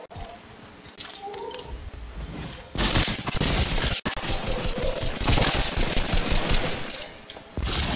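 Rapid automatic gunfire in a video game arena shooter, loud continuous bursts that dominate the middle and later stretch, over a busy game soundscape with no talking.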